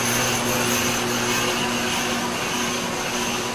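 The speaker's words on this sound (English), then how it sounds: "By running the vacuum on the other side, you can see that you don't got too much." A shop vacuum runs at a loud, steady roar with a constant tonal whine during glass tube machining, unbroken for the whole stretch.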